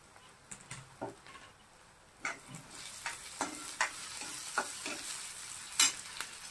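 Garlic fries in a pan for snake gourd bhaji, a soft sizzle broken by a series of sharp scraping stirs and clinks of a spoon, close and fairly quiet.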